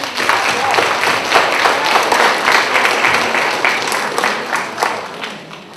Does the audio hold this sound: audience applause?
yes